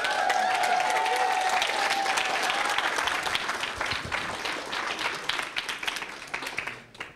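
Keynote audience applauding, dense clapping at full strength that thins out toward the end, with brief speech mixed in.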